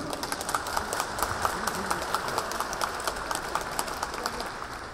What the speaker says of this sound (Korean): 두 위원장님께 커다란 박수를 부탁드립니다